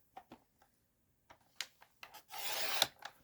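A paper card is trimmed along its edge while making a lantern card: a few soft scattered scrapes, then a brief, denser rasping cut near the end, close and quiet.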